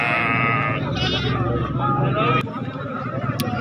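A black makhi chini castrated goat at a bakra mandi lets out loud, drawn-out bleats up close, with several voices and market chatter around it.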